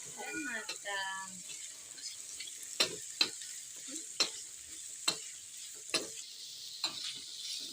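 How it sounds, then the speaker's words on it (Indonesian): Squid stir-fried in a pan sizzles steadily, and a spatula scrapes and taps the pan in sharp, regular strikes about once a second. A voice talks briefly at the start. "ditumis oseng-oseng teman-teman sampai harum dan matang"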